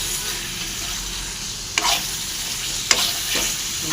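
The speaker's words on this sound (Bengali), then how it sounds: "মশলাটা ভালো ভাজা হয়ে গেছে" Spices fry in a pan with a steady loud sizzle, broken by a couple of sharp scraping stirs from a spoon.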